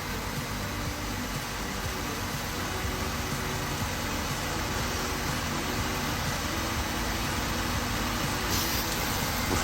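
A portable tire inflator air compressor pumps up a car tire at the roadside, a steady close mechanical buzz and hum running evenly without pause throughout.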